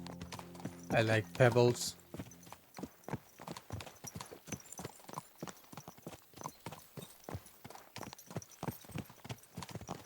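Horse hooves clip-clop at a steady walking rhythm throughout, close and clear, in the medieval video game Kingdom Come Deliverance 2, with a short burst of speech and a brief whinny-like sound early on.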